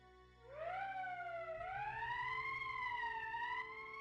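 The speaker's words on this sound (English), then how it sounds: "That's the emergency siren." A loud wailing emergency siren in the video game Valkyria Chronicles rises in pitch and holds, sustained for several seconds with a steady electronic tone.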